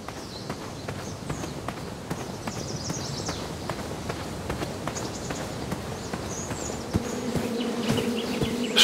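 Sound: buzzing beehive in King's Quest video game

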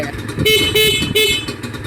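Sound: horn of Honda NSR150RR motorcycle

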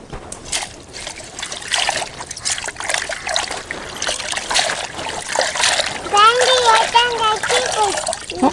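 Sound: rinsing pirandai (adamant creeper) stems in water

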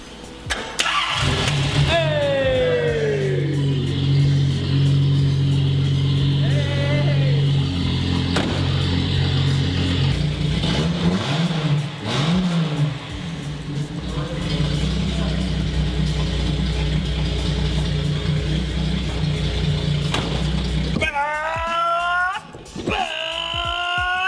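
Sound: Datsun car engine starting and revving

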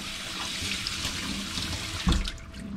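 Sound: cold tap water running over rice in a colander

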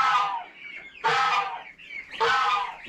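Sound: chickens clucking

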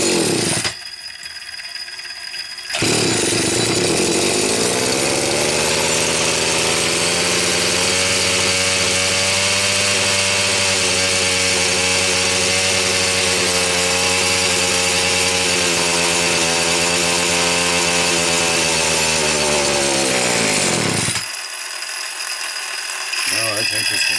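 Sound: Homelite 360 saw engine running with Walbro carburetor

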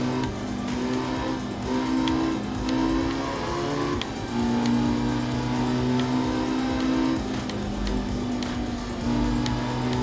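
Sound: rally car engine racing in video game art of rally

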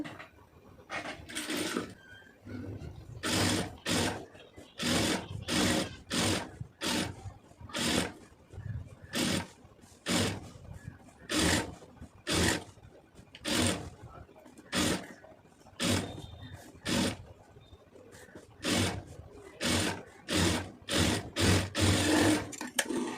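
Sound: sewing machine stitching lining piece of round neck

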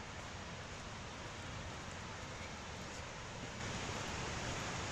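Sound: waterfall in the woods near Humford Mill

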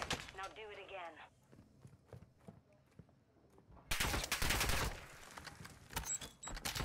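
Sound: gunshots in Modern Warfare II video game

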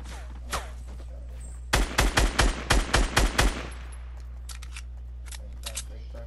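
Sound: gunfire from another player in the video game Fortnite

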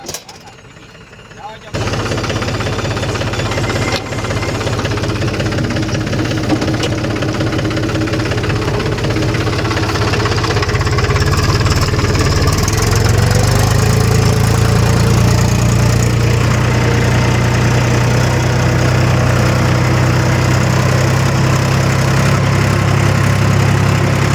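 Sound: tractor engine ploughing a field in monsoon

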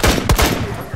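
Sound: gunfire in video game Rainbow Six Siege

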